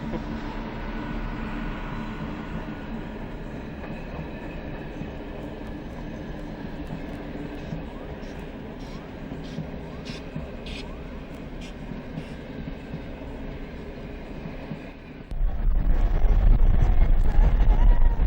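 A steady, loud rumbling roar of a train rolling along the tracks near a level crossing in Budapest, growing heavier and deeper near the end.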